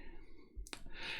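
A single sharp computer mouse click, close and brief, over a faint background hiss.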